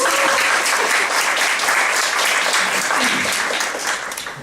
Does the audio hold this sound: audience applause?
yes